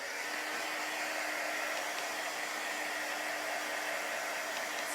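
A hair dryer blows air over wet chalk paste on a craft wreath, giving a constant close whooshing hiss with a faint steady hum beneath, uninterrupted and with no talking.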